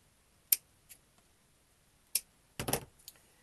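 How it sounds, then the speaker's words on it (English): Scissors cut rope for a Christmas sign, giving a few faint, sharp snips in a quiet room. A short crunchy burst follows as the blades close through the rope. "I just basically cut the rope."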